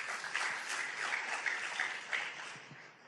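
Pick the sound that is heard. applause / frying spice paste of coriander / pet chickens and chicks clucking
applause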